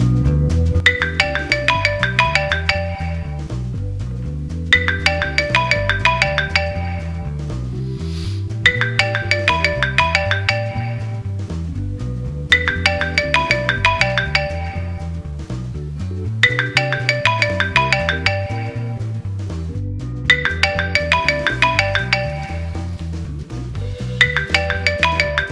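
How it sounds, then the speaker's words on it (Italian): A mobile phone in a cinema plays a looping musical ringtone, a repeating melodic phrase with a bouncing bass line, steady and moderately loud, ringing on and on without anyone answering. "ecco che gli squilla il cellulare"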